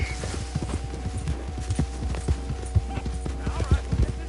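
Horse hooves clopping in the video game Red Dead Redemption 2, a steady run of hoofbeats under background game sounds and a voice.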